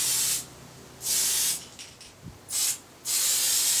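Gunmetal spray paint hisses onto the aft nozzle of a 1/100 scale Estes Saturn V model. Four short, close bursts of spray are separated by quiet gaps.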